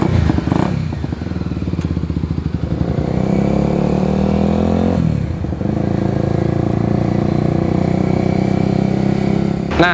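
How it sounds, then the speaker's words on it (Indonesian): Custom motorcycle built from a Yamaha Scorpio base, revving and accelerating on a test ride; a loud, continuous engine drone with throttle surges and a brief dip midway, running close throughout. "saatnya kita untuk test ride motor ini"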